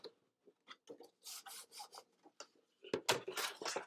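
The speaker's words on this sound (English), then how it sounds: "give it a good rub" Cardstock gift box being rubbed by hand to square it up, giving soft papery rasping strokes in short bursts, louder and denser toward the end.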